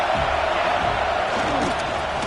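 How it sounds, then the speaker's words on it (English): Football stadium crowd roaring and cheering in a continuous dense wash of noise, loud and steady throughout with no pauses, filling the whole stretch. "This crowd bringing the energy and noise early."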